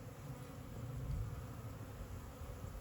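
Honey bees buzz faintly outside their hive in winter, a soft low hum of a few insects flying close by that swells slightly and fades, with no voices.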